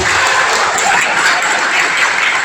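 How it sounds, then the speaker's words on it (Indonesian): Audience applause at a slaughter training session, a loud sustained patter of many hands clapping with no break. "Tepuk tangan atuh."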